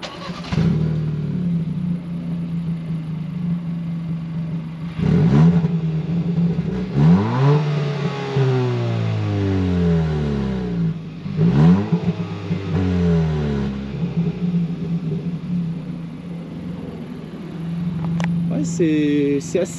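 A stock Kia ProCeed exhaust revs up twice in quick bursts over a steady idle, each rise and fall clearly audible and fairly close, with the engine settling back to idle between the revs.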